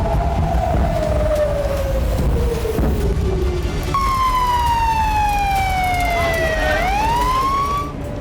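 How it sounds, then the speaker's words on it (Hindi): Air raid sirens wail in Israel, loud continuous tones that slowly sweep downward while a second siren joins partway through, dips, and rises again over steady background noise. "जिससे इजरायल में लगातार सायरन बज रहा है"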